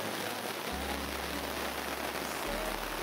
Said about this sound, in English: It's hailing and the dogs are cowering,